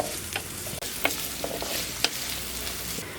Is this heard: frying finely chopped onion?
yes